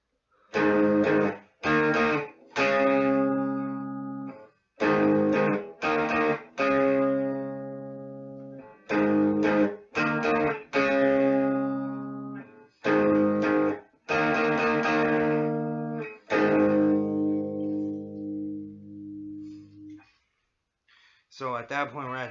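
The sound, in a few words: AVGN theme song played on instrument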